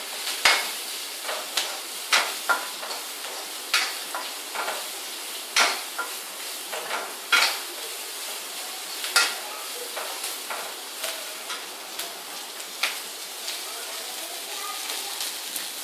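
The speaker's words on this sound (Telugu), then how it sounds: "ఇవి వేసి కొద్దిగా దూర రంగు వచ్చే వరకు ఫ్రై చేయాలి." Sliced onions fry and sizzle in a pan as an Indian home cook prepares onion tomato moong dal sambar, with frequent scraping stirs clicking and rasping at an irregular rhythm over a steady close crackle.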